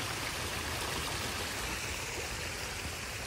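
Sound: small garden brook flowing water

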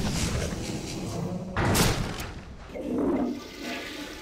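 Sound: toilet flushing in Skibidi Toilet episode

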